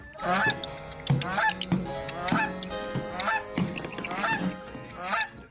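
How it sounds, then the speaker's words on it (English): A goose honks repeatedly, loud, close and nasal, in a rough rhythm of about eight calls with brief gaps between them. "Can there also be a goose for some reason?"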